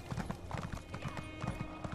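Hooves clip-clop in a steady, rapid rhythm as a horse trots along in Elder Scrolls Online: Morrowind, close and prominent with game ambience beneath.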